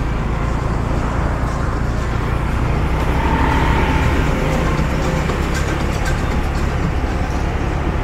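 Steady, loud traffic roar on a main road in Legian, Bali, heard from a moving vehicle, with continuous engine and tyre noise from cars and other vehicles passing close by and no clear talk.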